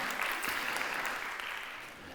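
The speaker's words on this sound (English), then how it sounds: "Let's give them some applause for having us here and for the warm welcome." Conference audience in Turkey applauding a game developer event's hosts, a brief, fairly soft burst of clapping from the crowd that tapers off over two seconds.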